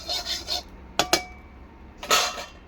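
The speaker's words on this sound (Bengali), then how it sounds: "তেলটা দিয়ে একটু নাড়বো, চারিদিকে লাগাই দেবো" Oil stirred around a pan on a clay stove: soft scraping and rubbing strokes, two sharp metallic clinks in the middle, then a longer rasping scrape, close up with no talking.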